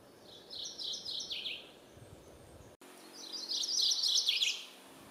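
A warbler in a Massachusetts state forest sings two clear, bright phrases, each a quick run of rich, thrush-like notes. The second phrase is louder and nearer, with faint background hum between them.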